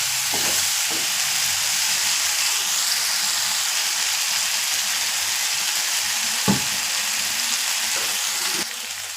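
Brain frying in a pan over a high flame, a steady, loud sizzle and hiss that runs throughout, with a few brief stirring knocks and no talk.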